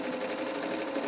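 A sewing machine runs steadily while stitching a pant seam through fabric, a continuous close whirring buzz with no pauses.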